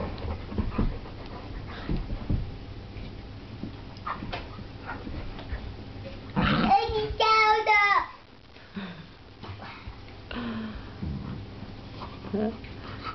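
A giant Airedale and a Picardy Shepherd puppy playing together, with steady close panting throughout and a burst of louder whining and yelping vocal play midway, with people talking faintly in the background.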